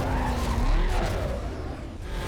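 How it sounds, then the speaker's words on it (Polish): A car drifting in the video game Need for Speed Carbon, with a long tire squeal whose pitch wavers and slides over a loud engine drone, continuous and close for the whole stretch. "Ten samochód lubi jeździć driftem."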